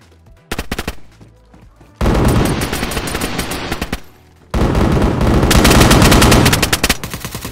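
Loud, close automatic gunfire from a DayZ firefight rattles in long rapid bursts separated by brief pauses, with no talking over it.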